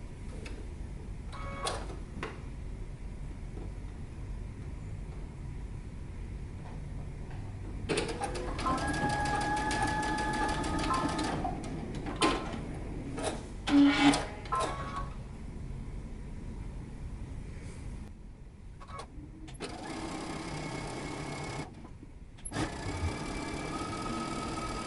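A sewing machine stitches a pants pocket in several separate bursts of fast mechanical whirring and ticking, close and moderately loud, with quiet pauses between runs.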